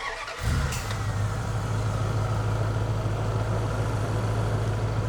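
A car engine cranks briefly and catches, then settles into a steady, even idle hum close by.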